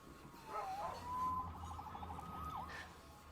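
A police siren in the Marvel's Spider-Man video game wails at moderate distance, rising and falling over a low background rumble.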